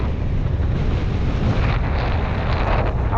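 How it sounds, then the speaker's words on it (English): Strong wind buffets the microphone on a bike trail in South Portland, Maine, a constant loud roar with no speech. "Windy."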